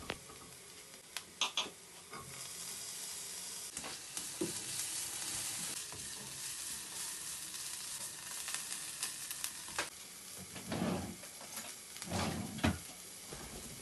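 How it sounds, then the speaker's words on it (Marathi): Chopped capsicum fries in a pan with spices, a quiet, close sizzle punctuated by light knocks and scrapes of stirring, with a couple of louder bursts toward the end. "मागीर हांव कॅप्सिकम हांवें थोडोसो कट करून दवरलो आहा तो घातलें"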